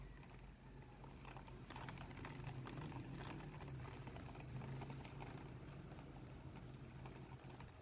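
Sunflower seeds poured into a Wingmaster bird feed mix for pigeons, a faint, steady dry patter of small seeds falling and rattling for several seconds, heard alone and close.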